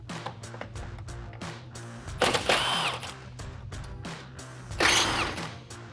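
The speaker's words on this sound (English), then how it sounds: "let's unbolt our headlight" Removing the 10mm headlight bolts on a 2014 Chevrolet Silverado 1500 produces a run of quick ratchet clicks, with two louder, longer bursts of turning in between.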